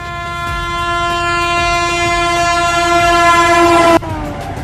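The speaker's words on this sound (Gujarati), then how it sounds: "રેલગાડી આવે છે ટ્રેન આવે છે" A train sounds a long, steady horn while passing on a railway track nearby, the blast growing slightly louder for about four seconds before cutting off sharply, leaving a rumble of wheels behind.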